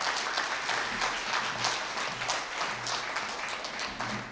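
Audience at a corporate dinner applauding after a speech, a steady wash of many people clapping for several seconds at moderate volume, slightly distant.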